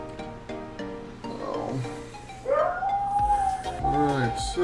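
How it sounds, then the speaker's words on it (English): A pet dog howls and whimpers close by indoors, its long rising and falling howl swelling in the second half, with a voice speaking over the start. "Sorry about my dog."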